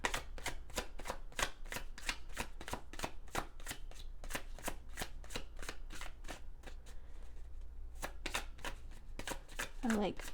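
Tarot cards shuffled in a steady, rapid riffling rhythm of many crisp flicks for about ten seconds, close and clear, with a brief vocal sound near the end.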